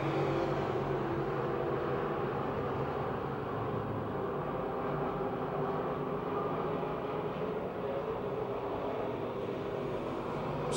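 Race cars on a dirt speedway at Pennsylvania Motor Speedway roar in a steady, dense engine drone that holds loud and unbroken throughout, with no clear passes standing out.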